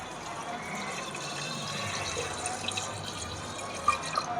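Water trickles and splashes steadily as it is poured into a pressure cooker holding marinated mutton for biryani, with a few brighter drips near the end and no voices.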